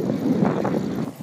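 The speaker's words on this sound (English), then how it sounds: "So it's pretty windy out here." Strong wind buffeting a microphone while cycling along an open road across Florida, a short burst of low, blustery rumble and gusty whooshing, close and fairly loud with no voices.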